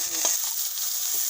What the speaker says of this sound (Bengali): ঘিয়ের উপরে একটু ভাজা ভাজা করে নেব